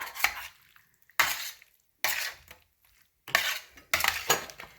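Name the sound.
stirring caramelized juices into beef bone sauce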